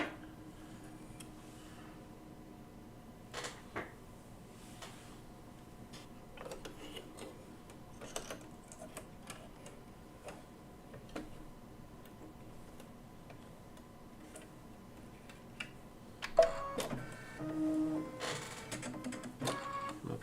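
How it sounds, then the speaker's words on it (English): Computerized embroidery sewing machine stitching flower petals for a quilt block, a steady quiet mechanical ticking and whirring that runs throughout, with a louder burst of rattling activity near the end. "So it's going to stitch around this bottom flower petals first"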